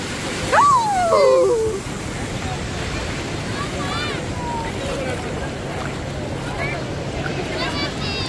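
Sea waves on the beach at Cox's Bazar make a steady, broad wash of surf, while nearby voices call and shout over it.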